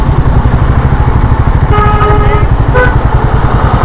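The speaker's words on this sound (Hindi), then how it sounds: "पूरा ट्रैफिक है।" Busy road traffic on a ride toward Tungnath, with a motorcycle engine thrumming in a fast, close, steady pulse and a couple of short car horn toots sounding a little way off.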